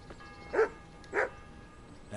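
Two short, clear barks from the dog Mutt in the Kingdom Come video game, spaced about half a second apart, moderately close over a quiet hum of background ambience.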